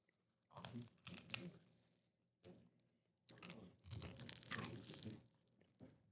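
Crunchy chewing on cooked pig feet, all bone, comes in bursts of wet crunching and tearing with short silent gaps between bites, close to the microphone and quiet overall.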